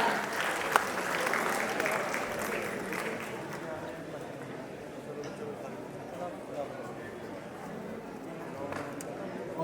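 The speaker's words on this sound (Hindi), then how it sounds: "एक बार जोरदार ताली।" Audience applause at a university conclave's valedictory session in Chandigarh, a steady dense clapping that runs for about ten seconds, heard from a distance, with some crowd noise and faint voices mixed in.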